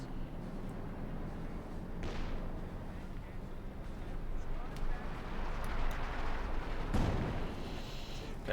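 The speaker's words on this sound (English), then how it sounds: "Got artillery fire here." Distant artillery shells landing across a Company of Heroes 2 battlefield, a few dull booms and sharp impacts over a rumbling low bed of battle noise, faint and spread out.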